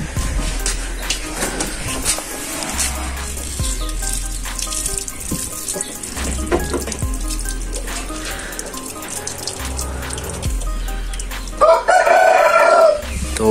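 Several chickens cluck and a rooster crows nearby, with repeated low thumps and a splash of running water near the end as water is drained.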